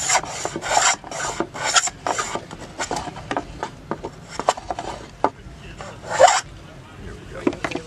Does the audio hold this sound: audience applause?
no